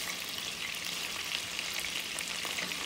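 Burgers sizzle and fry in a hot pan with the heat turned up, a steady close crackling hiss running unbroken throughout with no voices.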